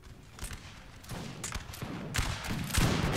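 Musket volleys crackle through a Napoleon: Total War battle as grenadier lines trade fire, with scattered shots building into louder, denser bursts near the end of the short stretch.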